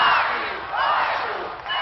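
A large American crowd outside the White House celebrates the arrival of the year 2000 with a loud, sustained roar of cheering and shouting, heard briefly and muffled.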